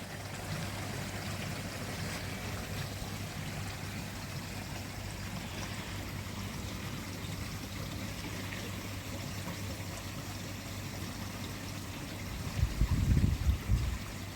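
A water shower runs into a koi pond in the evening, giving a continuous, even trickle and splash with a low hum beneath, and a short louder gush near the end.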